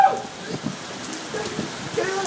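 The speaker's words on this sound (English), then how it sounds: "This is some crazy rain." A heavy Arizona downpour makes a loud, steady roar of rain on surfaces, with voices talking faintly underneath.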